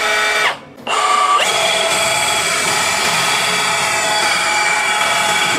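A Bosch GBH187Li cordless rotary hammer bores into hard meranti wood in auto mode, ramping from low to high RPM. It gives a loud, steady, high-pitched whine with a brief dip near the start, and there is no talk.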